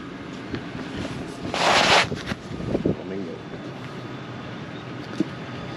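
Gusty wind rumbles against the microphone outdoors, with a brief loud rushing gust, while people talk nearby.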